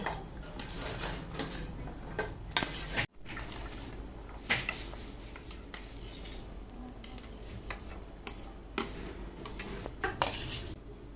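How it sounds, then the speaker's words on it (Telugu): Cut fruits for a fruit salad are stirred together in a bowl, with a spoon knocking and clinking against the sides in irregular, fairly quiet bursts and no talking. "మనం కట్ చేసి పెట్టుకున్న ఫ్రూట్స్ అన్నీ దీంట్లో వేసి కలుపుకోవాలి"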